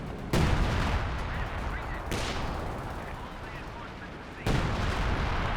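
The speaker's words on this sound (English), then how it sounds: "did he go down to a base artillery shell?" Artillery shells fire and burst in a Company of Heroes 2 match, three sharp loud blasts with long rumbling tails, the first near the start, another about two seconds later and a third near the end.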